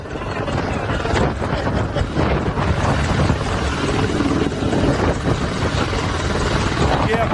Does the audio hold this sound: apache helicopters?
yes